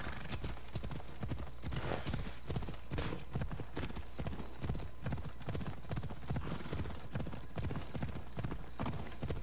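Horse hooves clip-clop at a steady, brisk gallop in the video game Assassin's Creed Odyssey, loud and continuous throughout with no voices.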